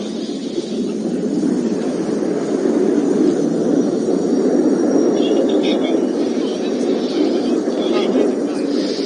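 A jet aircraft with variable sweep wings flies an airshow maneuver at Cosford, giving off a steady, broad roar that stays loud for the whole stretch.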